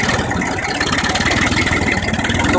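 A Massey Ferguson 35 tractor with a 35 HP engine, kept in very good condition, idles up close with a loud, steady, rapidly pulsing rumble that continues without a break.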